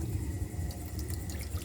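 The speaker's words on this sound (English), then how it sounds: "I want to see if this water fountain is doing cold water." A public drinking water fountain at Bill Baggs Cape Florida State Park on Key Biscayne runs in a steady, soft, continuous splash, heard close by with no talking.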